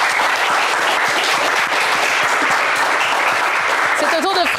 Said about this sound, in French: Eh bien, Ricardo, on vous applaudit très très fort.